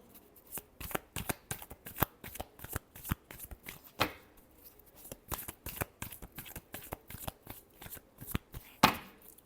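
Tarot cards are shuffled by hand in a quiet room: a rapid run of crisp riffling flicks and slaps, close and fairly soft, with a few louder snaps.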